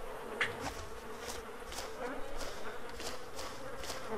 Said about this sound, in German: Ach nee, dann hört man trotzdem die Fliegen, ne?